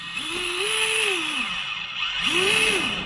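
An Axial SCX24 RC crawler fitted with a Furitek motor whines up and down under throttle in two close, rising-and-falling revs, with no one talking.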